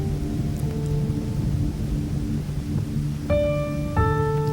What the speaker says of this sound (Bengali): প্রচণ্ড বৃষ্টি হচ্ছে, সারাটা দিনই বৃষ্টি হচ্ছে